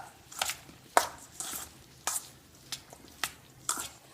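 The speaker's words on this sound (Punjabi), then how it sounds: "ਹੁਣ ਆਪਾਂ ਇਸ ਨੂੰ ਮਿਕਸ ਕਰ ਦੇਣਾ" Boiled potato tikki mixture with spices and boiled peas being mixed in a bowl, giving soft irregular scraping and squishing taps close by, about seven quiet strokes with no talking.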